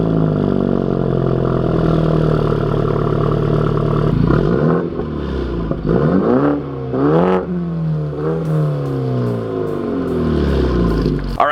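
BMW F30 328i Touring fitted with an AWE exhaust and performance mid pipe, revved repeatedly in a garage: loud, close engine with several sharp rising and falling blips over a steady idle, no talking.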